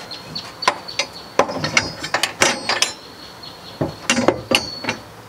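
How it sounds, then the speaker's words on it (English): A ratchet tightens the strut top mount nuts on a turbo BMW E30 during a rear strut brace install, giving close, loud bursts of rapid clicking in several separate runs with short pauses between them. "then you just put your strut top mounts nuts back on"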